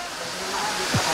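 Water rushes at Sakaan Falls in Laserna, Nabas, Aklan, where the flow is low and stream-like. It makes a steady, loud, broadband hiss with a voice talking faintly underneath.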